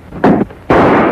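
Two loud, close gunshot-like bursts in a Western film, the first brief and the second a longer roaring blast with a sustained tail, no talk over them.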